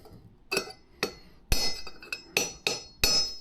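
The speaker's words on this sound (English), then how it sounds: "I just find it easier with a big mallet." A big mallet taps at a Mercedes 410D front wheel bearing, giving seven sharp metallic knocks with a ringing clink, spaced unevenly about half a second apart, close and fairly loud with no talking.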